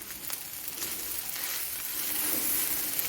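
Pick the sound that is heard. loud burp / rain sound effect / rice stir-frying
rice stir-frying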